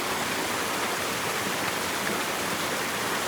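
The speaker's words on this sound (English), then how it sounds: "visualize this beautiful, rushing waterfall" A steady, dense roar of rushing waterfall water pours continuously without pause, broad and close, with no voices or other sounds.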